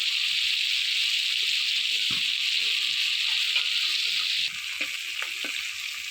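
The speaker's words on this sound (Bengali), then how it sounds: "শিং মাছগুলো কড়া করে ভাজবে না একটু হালকা ভেজে নিলেই হবে" Steady loud sizzling of shing catfish frying lightly in hot oil, continuous throughout, with faint clinks and stirring noises underneath.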